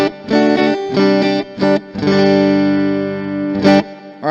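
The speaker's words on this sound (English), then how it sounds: "The kind of springiness in the reverb there." An electric guitar plays a few short chords and a sustained note, each trailing off with a splashy, springy reverb tail.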